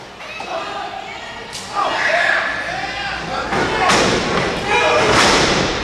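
Heavy thuds from a drop kick and a body landing on the mat in a CWF Mid-Atlantic tag-team wrestling match, several sharp slams a few seconds apart over crowd noise and a commentator talking.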